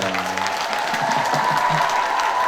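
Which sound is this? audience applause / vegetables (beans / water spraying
audience applause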